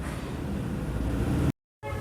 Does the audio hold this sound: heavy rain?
no